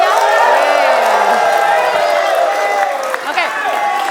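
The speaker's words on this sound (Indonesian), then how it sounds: "boleh dong tepuk tangan lagi yang meriah" A studio audience at a tvOne talk show cheers and claps loudly, with whoops and crowd noise filling the room continuously before easing slightly at the end.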